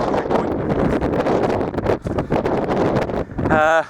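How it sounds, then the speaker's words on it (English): Strong wind gusts across an exposed hilltop on the Mendips and buffets the microphone with loud, steady, close-up roaring. "The wind's picking up, which I was expecting from down there to up here."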